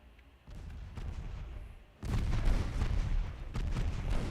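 Naval guns firing in Ultimate Admiral Dreadnoughts, a broadside of heavy booms building into a dense, rumbling barrage that swells louder midway and keeps pounding without a break.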